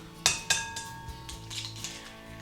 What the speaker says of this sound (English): crack our eggs into a large bowl